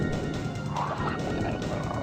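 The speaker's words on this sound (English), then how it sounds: "that glass shatter animation" Glass smashes in the Resident Evil HD video game, a dense crash with scattering fragments that holds loud and steady for about two seconds.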